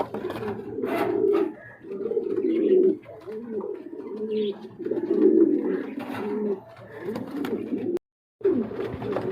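A White King running pair of pigeons coos up close, a steady run of low throaty rolling calls with brief pauses and a short gap near the end.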